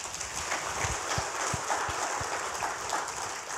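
Applause from a church congregation during a Sunday thanksgiving service, a steady dense wash of many hands clapping at moderate volume, with a few sharper individual claps standing out.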